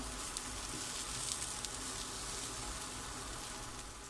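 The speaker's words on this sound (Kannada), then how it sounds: "ನಾನು ಎಣ್ಣೆ ಜಾಸ್ತಿ ಹಾಕಿಲ್ಲ ಎರಡು ಸೈಡ್ ಫ್ರೈ ಮಾಡ್ತೀನಿ" Eggplant slices for baigan goju fry in a little oil in a pan, giving a soft, even, continuous sizzle throughout.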